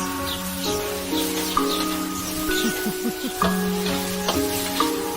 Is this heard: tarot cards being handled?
no